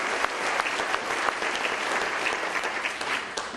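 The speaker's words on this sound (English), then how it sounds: "Let's give a round of applause for the head of the FOP." A crowd at a live comedy show breaks into dense, steady applause that holds evenly throughout, many hands clapping at once with no pauses.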